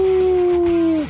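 A voice imitates a dog howling with a single sustained, steady tone that sags slightly in pitch at the end, loud and close on a radio show.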